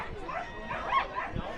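A dog in the winner's circle at a Canterbury Park race meet gives a few short yips and whimpering barks, close, mixed with people talking.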